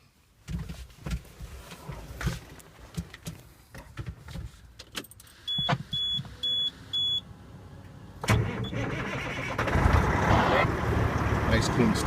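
A 2009 Western Star 4900SA highway tractor truck: keys jangle in the cab, four short dashboard beeps sound, then the engine cranks and fires into a loud, steady close-up idle.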